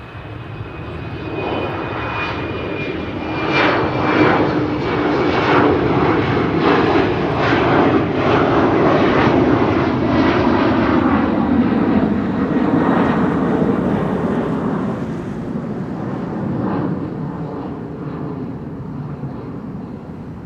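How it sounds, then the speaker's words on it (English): An Embraer 190 jet departing Amsterdam Schiphol Airport on a morning flight to Hamburg, a loud steady engine roar that swells and then slowly fades as it passes. "Embraer 190 to Hamburg."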